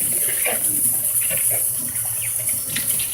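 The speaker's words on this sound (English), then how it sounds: "I'm trying to rinse it clean." Running water from a kitchen tap as a cup is rinsed clean, a steady loud splashing stream that fills the whole moment, with only faint sounds besides.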